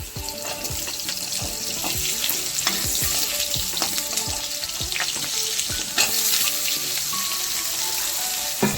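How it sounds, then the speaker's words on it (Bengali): Loud, continuous sizzling of papaya and green plantain pieces frying in oil, with frequent rhythmic scrapes and clinks of a spatula stirring in the pan. "এবার আমি পেঁপেগুলোকে আর কলাগুলোকে একসাথে ভেজে নেবো"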